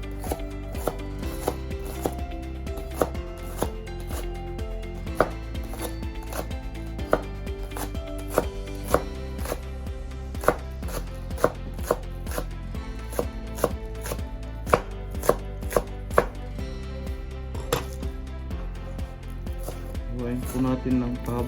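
A knife slices an onion lengthwise on a board for a crispy sweet and sour giant sea perch dish, a steady run of sharp close cuts, loud and clear, while a person talks throughout.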